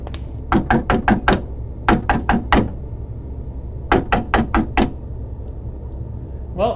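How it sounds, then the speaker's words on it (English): Knocking at a door in the video game Baron Wittard, sharp raps in three bursts of four to five quick knocks separated by pauses, close and fairly loud with no voices. "someone's knocking at the door"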